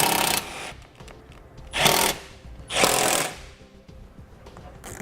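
Power tool driving bolts back into the belly pan of a 2018 vehicle, three short loud buzzing bursts separated by quieter pauses, close by with no talking.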